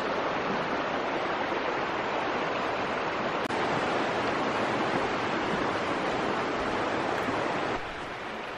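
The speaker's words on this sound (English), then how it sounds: "Right beside the Chattooga River." The Chattooga River flows steadily beside a trail at Burroughs Ford, a loud, continuous rush of water that holds nearly constant throughout and eases slightly at the very end.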